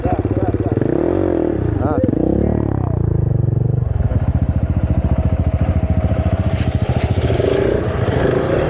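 A CF Moto 450 MT motorcycle rides an off-road single track. Its close, loud engine putters and revs with a steady pulsing throb, while a voice talks over it at the start.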